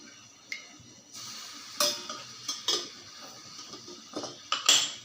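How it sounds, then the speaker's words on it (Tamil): Metal pan clanks and scrapes on a stovetop, several sharp clinks scattered over a quiet background, with faint liquid sounds as peanut oil is poured into the pan. "சட்டி வச்சுருக்கேன் சட்டியில் கடலெண்ணெய் ஊற்றுக்குறேன்"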